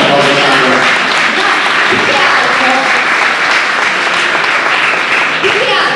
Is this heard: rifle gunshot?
no